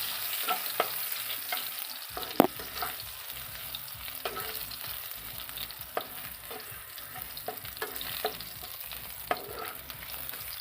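Crushed garlic fries in oil in a pan, giving a soft, steady sizzle with occasional sharp clicks and scrapes of stirring scattered throughout, fairly quiet and with no voices.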